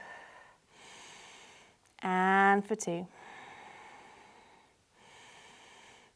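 Slow yoga breaths during a calm flow class: soft, airy inhales and exhales rise and fade in a steady rhythm, with an instructor briefly counting aloud in the middle.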